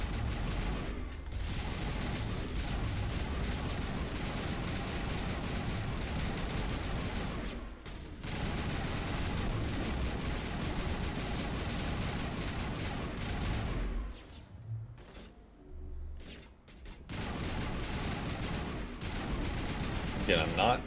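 Gunfire in Mass Effect: Legendary Edition, a dense, continuous barrage of shots and booms during a mercenary firefight, loud and sustained with brief lulls, with a voice talking at points.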